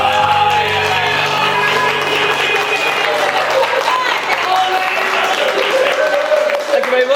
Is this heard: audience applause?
yes